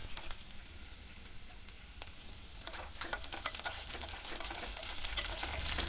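Cashew nuts and vegetables sautéing over high flame in a pan for a mushroom stew, with a steady close sizzle and scattered scraping stir clicks throughout, no talk.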